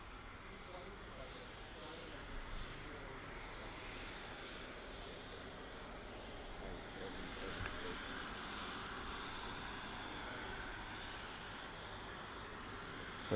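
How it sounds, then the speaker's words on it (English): An Embraer Phenom 300 business jet taxis at Birmingham Airport, giving a steady broadband engine rumble and whine throughout, with people talking nearby over it. "Phenom 300 taxiing out. It came in from Hamburg earlier on."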